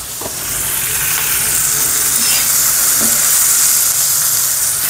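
Green chillies roast in a hot pan for a chilli thecha, with garlic and cumin to be added, producing a steady loud sizzle and hiss with a few faint clinks of stirring.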